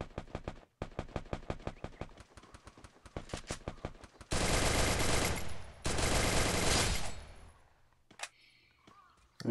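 Rapid automatic gunfire in the Free Fire battle royale video game: loud, close bursts of sharply spaced shots, then two dense, sustained volleys of heavy fire and a few scattered shots at the end.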